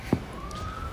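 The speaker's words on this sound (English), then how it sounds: "Sorry about the siren in the background." An emergency vehicle siren in Hawaii, heard as a faint, thin, slowly rising wail far in the background, with a brief soft knock near the start.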